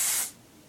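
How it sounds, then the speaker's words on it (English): Hair product spray from an aerosol can, one short close hiss that cuts off after a fraction of a second and leaves quiet room air. "And then you're gonna spray a little bit of this on the poof"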